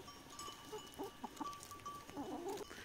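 Faint clucks and short calls from farm chickens mixed with goats, scattered over a few seconds against quiet, distant outdoor background; soft and intermittent, with no talking.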